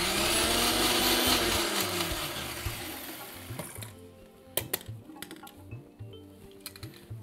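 A mixer grinder grinds chutney with a loud, steady whir for several seconds, then switches off, leaving scattered clicks and knocks of handling.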